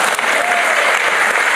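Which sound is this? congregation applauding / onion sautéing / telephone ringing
congregation applauding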